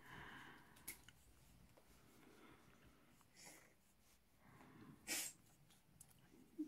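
A dog gives a couple of brief, quiet snorting sneezes, with faint breathing and room noise in between and no talking.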